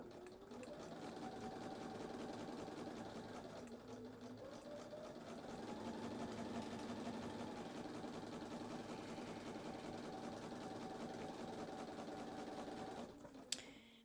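A sewing machine chain stitching a quilt block runs steadily with a fast, even motor whir and needle chatter, slowing briefly around the middle, then stopping with a faint click near the end.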